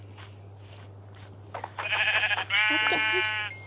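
Several sheep bleats from Minecraft, loud and close, one after another in the second half, with brief speech near the start.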